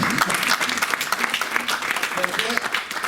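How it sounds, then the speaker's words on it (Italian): An audience at a press conference for the Miss Blumare 2016 contest aboard the MSC Magnifica cruise ship breaks into steady, close applause, with a voice talking over the clapping. "Io farei un applauso a questo concorso, farei un applauso."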